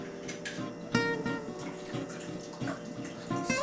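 Rice vinegar is poured into a steamer pot for steaming crab, a close, soft liquid trickle and splash with a few sharper splashy bursts along the way.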